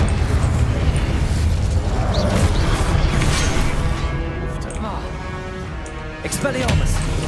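A loud, roaring fire blast from the Incendio spell in Hogwarts Legacy, a sustained rumbling whoosh that fills the scene and eases slightly before swelling again, with a voice heard under it.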